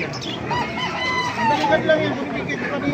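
An 11-month-old White Hatch gamecock rooster crows at a market, its call rising and falling over steady crowd chatter and background noise.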